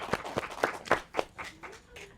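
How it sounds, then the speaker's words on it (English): A small audience at a live roundtable discussion gives a short round of applause: about eight distinct, fairly quiet claps in an uneven rhythm, with no talking over them. "So please give me a round of applause."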